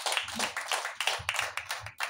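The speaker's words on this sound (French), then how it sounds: "Applaudissez pour la lecture" A church congregation claps together after a scripture reading, a quick, rhythmic run of sharp claps that holds steady for about two seconds at moderate loudness.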